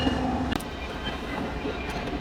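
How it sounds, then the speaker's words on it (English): A train rolls past close by, a steady heavy rumble of rail cars with faint clatter, continuous and fairly loud throughout with no talk over it. "no way there's a train while I'm trying to film"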